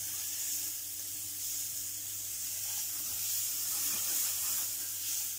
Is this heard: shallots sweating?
yes